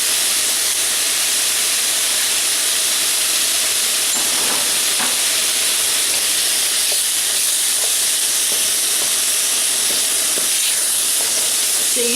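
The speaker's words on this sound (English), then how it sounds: "Adding the spices now to the pan. I'm going to stir well to cover the meat in the spices." Pork coated in spices fries in a pan with a loud, constant hissing sizzle that runs unbroken from start to finish, with occasional soft stirring scrapes.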